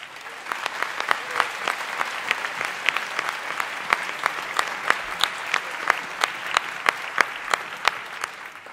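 Audience in a hall applauding children at a keynote talk, a lively run of clapping with crisp individual claps standing out over the steady patter for the whole stretch.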